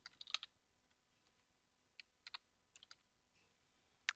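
Brief bursts of computer keyboard typing while entering a search term on a support website, a cluster of quick clicks at the start followed by a few scattered keystrokes, fairly quiet and with no talking.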